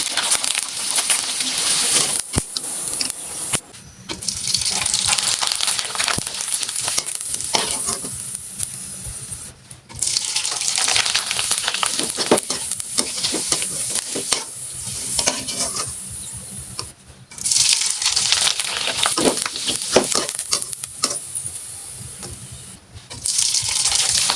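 Muktojhora pitha fry in hot oil in a wok, a loud continuous sizzle and crackle interrupted by brief quieter gaps as pieces are added or lifted out; near, with no speech.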